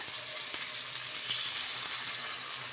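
Ponganalu made from a grated radish and semiya batter fry in a pan over a low flame, giving a steady, soft, continuous sizzle with no talking.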